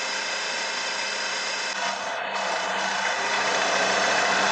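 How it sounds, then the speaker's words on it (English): A Mercedes C180 Kompressor W203 engine idles steadily with a bright, buzzing mechanical whir under a hiss, even and close, with a brief dip near the middle. "the car sounds good. The engine doesn't make any strange sounds"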